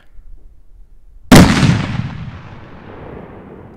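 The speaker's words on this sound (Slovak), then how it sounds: "Ako ďalšiu vec si dáme takúto petardičku Cobra 3, 14 gramov." A Cobra 3 firecracker of 14 grams goes off at New Year's, a faint lead-in followed by one sudden, loud explosive bang and a long rumbling decay that fades over a few seconds.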